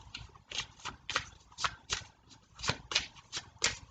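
Tarot cards are handled and shuffled in a quick series of soft, papery flicks and slides, about a dozen close bursts in an uneven rhythm with no voice over them.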